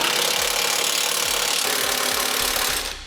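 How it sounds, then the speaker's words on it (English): Bolts being run down with a power tool while mounting a base plate kit to the subframe of a 2007 vehicle: a steady, loud, close whirring drone that carries on without a break, then tapers off at the very end. "Now we'll snug these bolts down."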